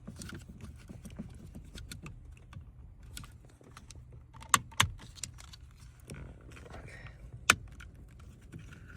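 Small plastic tabs of a Nissan Rogue window master switch click back into place: a few sharp, close clicks over a steady background of faint rattling and handling noise.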